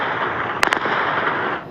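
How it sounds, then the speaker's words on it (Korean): Gunfire during night protests in Tehran: two quick, sharp cracks close together stand out above a steady wash of distant crowd and street noise. "끊임없이 울리는 총성 속에서도 시위대는 구호를 멈추지 않습니다."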